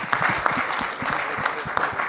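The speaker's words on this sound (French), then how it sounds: "Applaudissez." Audience applause at a film master class held by a cine club, a brief, dense round of clapping from a crowd at a steady, fairly loud level.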